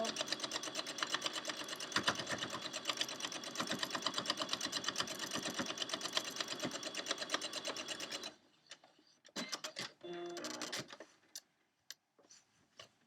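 A sewing machine stitches a quilt with a fast, steady mechanical rattle for about eight seconds, then stops, followed by a few short bursts and soft handling clicks close by.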